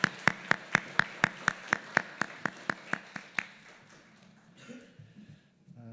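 A church congregation at a Christmas Day service claps after a youth choir's song: about a dozen sharp, evenly spaced claps in a steady unison rhythm, close and fairly loud, then fading into a quiet room murmur.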